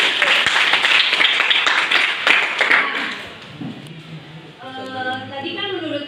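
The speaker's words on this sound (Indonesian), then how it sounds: "Tepuk tangan." A classroom group claps hands for a few seconds, a dense patter of claps that thins out, after which a voice begins talking.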